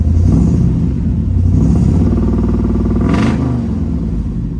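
A 1968 Camaro fitted with old-school chambered exhaust rumbles steadily from inside the cabin, a deep continuous low growl that holds at a loud level throughout with a brief rise partway through.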